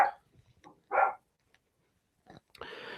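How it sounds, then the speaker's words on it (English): Indoors, a dog gives a few scattered, faint barks separated by quiet gaps, the last one longer and rougher. "Oh, there's my dog barking."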